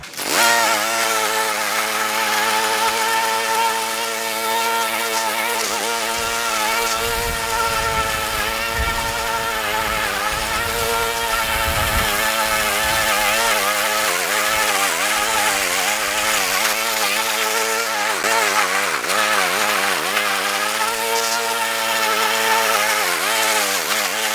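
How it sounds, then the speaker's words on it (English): An Aldi Ferrex petrol self-propelled lawn mower cuts grass at one inch, its engine droning loud and steady with wavering pitch as it labours through thick growth. "I'm cutting it at 1 inch, which is asking a lot of this mower in all fairness"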